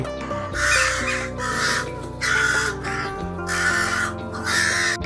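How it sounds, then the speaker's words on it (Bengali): Several crows caw harshly and insistently in repeated loud bursts, overlapping calls coming in rough groups with short gaps, fairly close. "কাকেরা তাদের ঘিরে ধরে তীব্র চিৎকারে রাগ প্রকাশ করছে"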